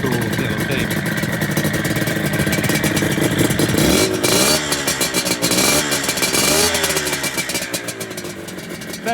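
A 1978 Yamaha RD250 two-stroke motorcycle starts and revs, its loud, close, raspy engine climbing and falling through several sharp throttle blips before settling back toward idle.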